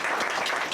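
Applause from an audience at a student conference on leadership and ethics in Africa, a dense, even patter of clapping through a short burst.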